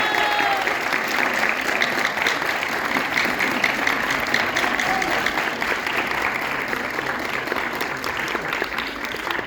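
Audience applause welcoming the conductor Wilder Corrales at a concert in La Heliodora, Envigado, a dense, steady clapping from a large crowd that holds at an even level for the whole stretch.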